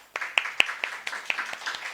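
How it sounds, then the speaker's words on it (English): Scattered handclaps from a small group at a literature and arts festival in Bhopal, irregular and moderately close, a modest round of applause lasting a couple of seconds. "A huge round of applause for him."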